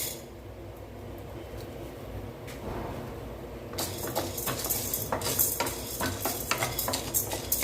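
Chana dal roasts in a pan as a utensil stirs and scrapes through it, quiet at first and then a busier run of close, repeated scraping and rattling with a faint sizzle underneath, no voices.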